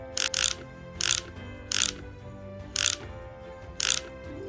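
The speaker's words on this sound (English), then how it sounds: "Let's use our screwdriver to turn the wheel back on." A toy screwdriver turning to screw a wheel back onto a toy ratchets in five short clicking bursts spaced about a second apart, close and clear with no talk.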